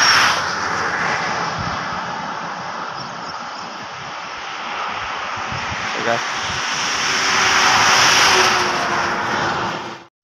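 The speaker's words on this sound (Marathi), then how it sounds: "या काय बऱ्याच गाड्या आल्या आता" Many vehicles pass on a rural road near the Jhagde Phata junction. A continuous roar of traffic grows louder toward the end as a large vehicle goes by close, with wind buffeting throughout.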